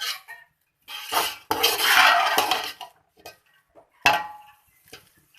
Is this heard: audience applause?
no